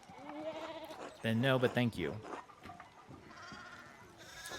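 Sheep bleat in a chunky, harmonic burst near the start of a stroll through the video game Pentiment, sitting loud and close over a soft outdoor ambience, with in-game character dialogue around it.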